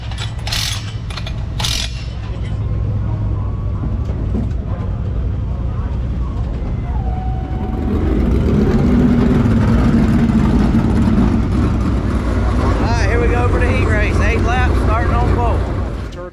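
Dirt track race cars, super dirt series machines at Lavonia Speedway in Georgia, roar loudly at the start of an eight-lap heat race, their engines droning steadily and swelling as they accelerate, with commentary running over the noise.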